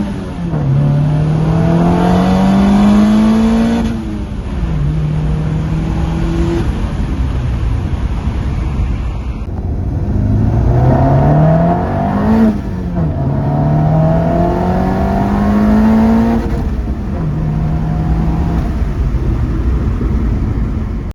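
A turbocharged Honda with a D16Z6 engine, running low boost and not fully tuned, accelerates hard through several gears, each pull rising in pitch before dropping at the shift, loud and close throughout.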